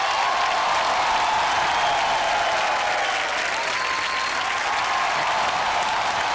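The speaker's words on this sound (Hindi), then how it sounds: "जोरदार ताली बजा दीजिएगा" Loud, sustained audience applause filling the room, a dense unbroken wash of clapping from a large crowd that holds steady throughout.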